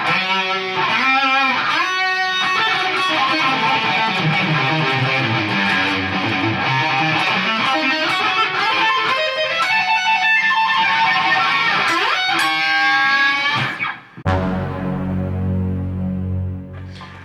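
Distorted electric guitar plays a fast diminished lick, rapid cascading notes loud and dense for about fourteen seconds before breaking into a ringing, sustained chord that slowly fades.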